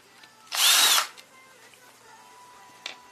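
A power drill whirs for about half a second while backing out a screw on a furnace control board, one short close burst followed by faint handling clicks.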